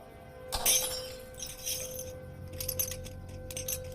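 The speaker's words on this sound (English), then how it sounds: "I knocked over my glass." A drinking glass knocked over and shattering indoors, a sharp, bright crash followed by scattered tinkling of fragments settling, then a few lighter clinks; fairly close, with no talk over it.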